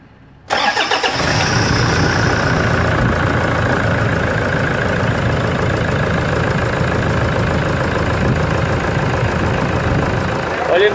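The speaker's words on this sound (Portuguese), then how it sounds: "Agora vamos dar partida." A pickup truck engine cranks and fires up after a brief quiet moment, then idles steadily and loudly with a low rumbling drone throughout.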